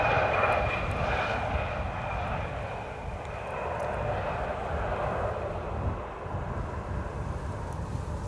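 A KLM airliner arriving from Stavanger on flight 1171 at Amsterdam Schiphol gives a steady, loud broadband jet roar with a faint whine, holding level throughout with some wind buffeting on the microphone.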